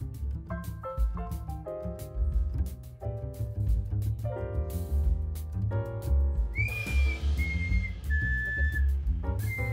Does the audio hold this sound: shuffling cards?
no